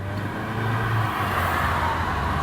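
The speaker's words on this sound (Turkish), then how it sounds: "Gaz tepkimesini ölçelim." Car engine with a faulty electronic throttle body held at steady high revs during a throttle response test, a loud continuous drone with a low hum and no talk.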